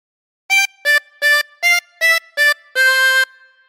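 A 24-hole tremolo harmonica plays a phrase of This Old Man: seven close, clear notes, six short ones then a longer held last note, alone and fairly loud with silence around them.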